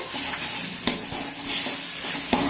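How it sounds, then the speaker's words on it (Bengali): Spice paste is stir-fried for chicken kosha curry with a continuous loud sizzle, broken by occasional spatula scrapes and knocks against the pan. "দেখো বন্ধুরা, এবার মশলাটা কষানো হচ্ছে।"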